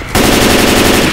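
Rapid machine-gun fire in Left 4 Dead 2 on the Dark Carnival campaign, a loud continuous burst of closely spaced shots starting abruptly and running for about a second.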